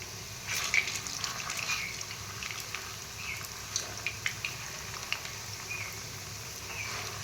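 Balls of food frying gently in a pan of oil, a soft steady sizzle with small pops and crackles scattered throughout, close and with no voices.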